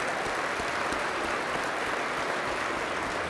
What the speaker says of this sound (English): Yes, let's give them a round of applause.